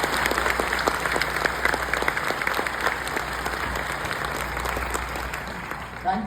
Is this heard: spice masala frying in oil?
no